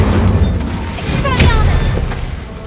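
In the Hogwarts Legacy video game, the Incendio fire spell is cast: a loud, dense burst of whooshing, roaring flame and booming impacts that fills the whole moment.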